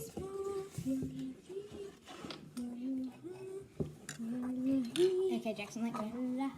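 Scone dough is stirred in a bowl with soft clinks and scrapes of utensil against the bowl, quiet and repeated under a voice talking over them.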